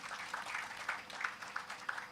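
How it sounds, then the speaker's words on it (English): Audience applause at an employment expo for persons with intellectual disabilities, a steady wash of many hands clapping at moderate distance, fairly soft and even throughout with a few sharper claps standing out. "let's give JADE a round of applause for that"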